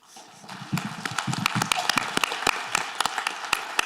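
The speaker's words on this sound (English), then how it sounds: "let's give him a round of applause, please" An audience at a fentanyl awareness summit claps in a sustained round of applause, with dense overlapping claps and sharper individual hand claps standing out, fairly close and building slightly after the first second.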